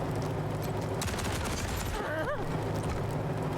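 Gunfire in the turn-based video game Wasteland 3: a dense, loud volley of shots fused with constant in-game sound that stays at full level throughout, with no clear pause between blasts.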